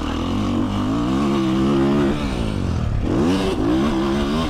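Beta 450 dirt bike engine revving loudly and close, a sustained buzzing drone that rises and falls in pitch with throttle, dipping briefly before climbing again, no voices over it.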